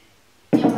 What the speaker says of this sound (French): Donc on va verser de l'eau sur les plantes.